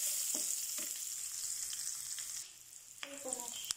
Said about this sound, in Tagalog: Isusuti ko ng konti yung aking onion at saka garlic.